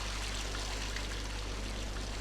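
Water pouring and trickling in the video game Zelda Wind Waker, a steady continuous stream heard close and alone, with a constant low hum underneath.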